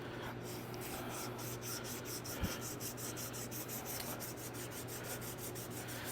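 Steady back-and-forth rubbing of sandpaper on a wooden knife handle held in a vise, a continuous rasping hiss in regular strokes, close and even, with no talk.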